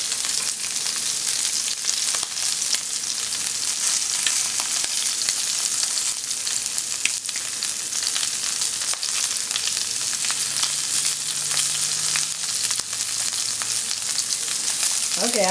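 Jumbo shrimp fry in a hot pan with a dense, steady sizzle that stays close and even throughout, with faint clinks of handling partway through and no talking.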